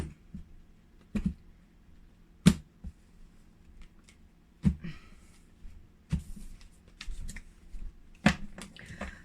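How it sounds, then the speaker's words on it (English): Quiet tarot card shuffling with sharp riffle bursts and soft slides, several distinct shuffles spaced a second or two apart, close and alone. "let's shuffle the cards."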